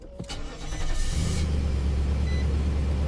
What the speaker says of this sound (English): Okay, cold start.